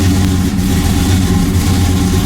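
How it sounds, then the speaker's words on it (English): A car engine running roughly and lean, a loud, close, steady low rumble with an uneven idle, with no one talking. "Now let's pump the gas and then start the car."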